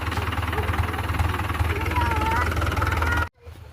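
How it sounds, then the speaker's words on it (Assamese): A tractor engine idles with a rapid, even low throb near a rice paddy harvest, voices talking over it before the sound cuts off abruptly. "এইয়া ট্ৰেক্টৰ"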